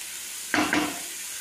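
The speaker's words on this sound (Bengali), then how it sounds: "2-3 মিনিট মতো এইভাবে আমি হালকা আঁচে নাড়তে থাকবো, লো ফ্লেম করে আমি এটা একটু নাড়তে থাকবো।" Red lentils stirred in a pan over a low flame: two quick scrapes of the spoon close together, standing out briefly against a quiet, faint background.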